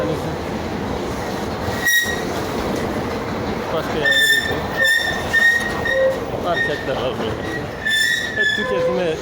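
A metro train rumbles past nearby at Gayrettepe, with metallic wheel squeals and clattering over the tracks, loud and continuous throughout.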